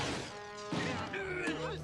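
A door is smashed in a Buzz Lightyear of Star Command cartoon, one sharp crashing impact landing amid animated character voices and exclamations that continue over and after the hit.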